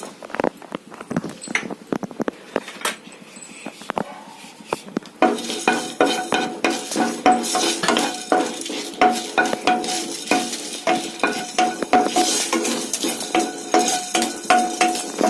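Black peppercorns and fenugreek seeds roast in a pan for temple-style tamarind rice, the seeds rattling and scraping loudly and close as they are stirred in quick repeated strokes, with faint sizzling underneath.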